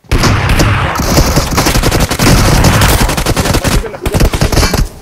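Rapid automatic gunfire in PUBG Mobile, loud, close bursts of rattling shots that run almost continuously, with short pauses near the end.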